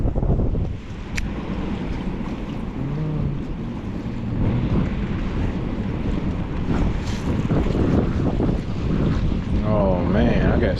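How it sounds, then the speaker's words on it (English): Strong wind roars across the microphone on a rough river during a bass fishing outing, with a boat rocking in choppy water; the buffeting is loud and continuous, and someone speaks briefly over it. "Got to deal with the wind."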